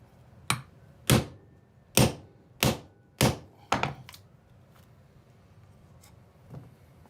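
A piece of oak is struck hard against a floor six times in an uneven rhythm, each a loud, dull thunk, followed by a couple of faint knocks.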